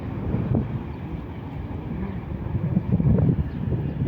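A TCDD ore freight train hauled by an E43 locomotive rumbles past at a distance near Niğde, heading toward Kayseri in the evening, under steady wind buffeting on the microphone.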